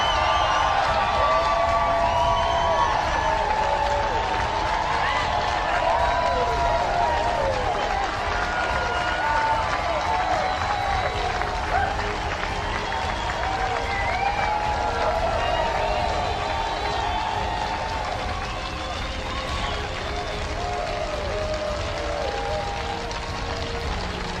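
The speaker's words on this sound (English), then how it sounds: "Give yourselves a round of applause." Audience applause at a motivational speech, a dense continuous wash of clapping and cheering from a large crowd, loud and sustained throughout with a slight fade toward the end.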